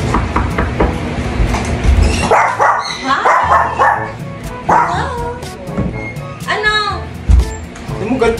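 A dog barks and yips in short excited bursts nearby, with some whimpering, while a person talks over it.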